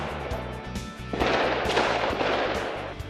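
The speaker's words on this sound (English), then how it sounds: "gunfire and explosions turn a French neighborhood into a war zone" Rapid bursts of gunfire and explosive cracks in a Paris suburb neighborhood, loud and dense, rising into a sustained barrage of overlapping shots over a low rumbling background.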